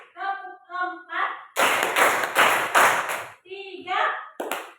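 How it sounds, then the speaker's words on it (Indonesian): A class of children claps in short rhythmic bursts between a teacher's counted calls. The group claps come as a few sharp, loud volleys in the middle and then once more at the end. "Tepuk 1, tepuk 2, tepuk 3, tepuk 1, tepuk 4"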